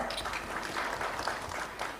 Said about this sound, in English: So let's have a round of applause for Dr.